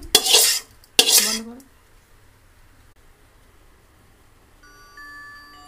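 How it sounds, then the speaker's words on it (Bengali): Fried dal is tipped and stirred into a pot of hot water for khichuri, making two short, loud bursts of splashing and clattering close by, followed by near silence. "এই জল গরম হয়ে গেছে, আমি এবার ডালটা দিয়ে দিচ্ছি।"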